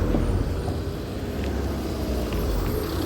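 A scooter running steadily in second gear with a constant low engine drone and wind rumble, even and unbroken throughout.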